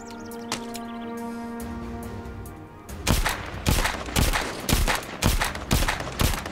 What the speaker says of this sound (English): let me see if I can shoot the propane then